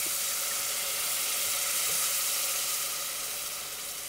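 Chardonnay white wine, about 150 ml, poured into a hot pan for a sauce, hisses and sizzles in a loud, steady wash of steam that tapers slightly toward the end.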